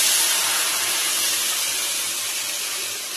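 Dal poured into a hot pan for Bengali-style biuli bhaja dal, giving a loud, steady hissing sizzle that holds evenly and fades only slightly.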